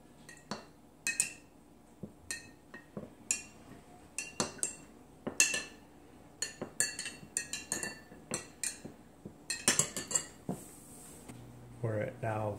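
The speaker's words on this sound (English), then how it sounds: "I'm going to stir it back and forth." A utensil clinks repeatedly against a glass while toilet paper is stirred back and forth in water, a steady series of sharp little taps with brief pauses, close and clear.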